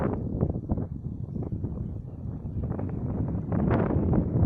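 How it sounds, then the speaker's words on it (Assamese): Strong wind blowing at Pasighat, a steady loud roar buffeting the microphone throughout with gusty rustling and swells, rising toward the end, no voices. "দেখিছে নহয় চুলি কেনেকৈ উৰি আছে। তো বতাহ পূৰা চক"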